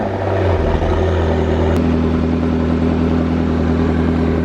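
A rebuilt, previously wrecked McLaren MP4 sports car engine runs steadily at idle close by, a loud, constant drone whose pitch shifts slightly partway through, with no one talking.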